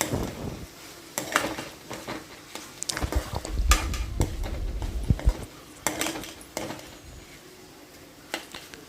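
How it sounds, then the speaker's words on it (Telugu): A spoon stirs brinjal and tomato pieces in a pan, making repeated close metallic scrapes and clinks in an irregular rhythm over a soft sizzle. "టమాటా ముక్కలు కూడా వేసుకుందాం వేసుకుని రెండింటిని కలుపుకుందామండి"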